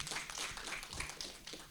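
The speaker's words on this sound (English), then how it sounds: "Yes, you can clap, please." An audience at a Zimbabwean debate on data storage and AI policy claps steadily, a soft, dense patter of many hands heard from a distance without pause.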